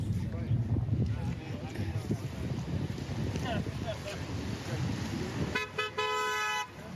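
Car horns honk on a busy Toronto street during a December 2023 rally, a sustained horn blast near the end standing out over wind buffeting and general street noise.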